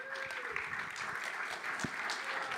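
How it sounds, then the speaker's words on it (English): Applause from a conference audience at a main stage event, a steady wash of clapping with a few sharper claps standing out near the end. "Applause for that."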